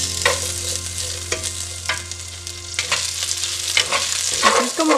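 Bacon sizzles steadily in a pan for frijoles charros while a utensil stirs it, making irregular scraping clicks over a constant hiss close up, with no one talking.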